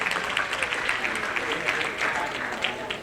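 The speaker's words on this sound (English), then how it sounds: "If everyone can just give him a round of applause" Audience at a high school 50th anniversary assembly gives a steady round of clapping for a guest who makes videos, a dense, even patter lasting throughout with faint voices mixed in.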